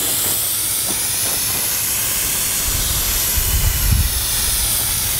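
An airless paint sprayer running at 2200 PSI with a 515 tip puts out a steady, loud hiss of atomised paint that stays constant throughout, with a faint low rumble near the end.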